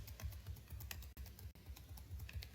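Arrow keys on a computer keyboard pressed in quick succession, a run of soft close clicks with a few brief pauses, quiet and alone.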